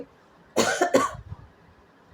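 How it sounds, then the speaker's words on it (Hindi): An elderly man gives a single short, harsh cough in two quick bursts, close and fairly loud against a quiet background. "कभी खांसी आ जाती है"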